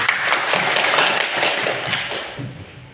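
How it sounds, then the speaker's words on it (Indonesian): Students in a classroom clapping together, a dense, close patter of many hands applauding for about three seconds and fading slightly toward the end. "Oke, kasih tepuk tangan."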